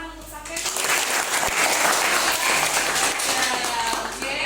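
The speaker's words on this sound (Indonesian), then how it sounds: "tepuk tangan untuk Saken." A room of students applauds a fellow student, with scattered hand claps building into a steady, moderately loud round of clapping that is mixed with chatter and voices throughout.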